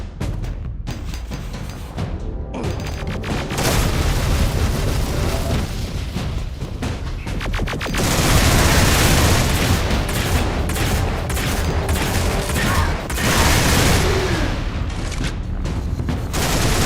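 Tank cannon fire and explosions in the Duke Nukem: Alien Armageddon mod: a loud, dense barrage of booms and rapid gunfire bursts running continuously, growing heavier and fuller in the second half, with no talking.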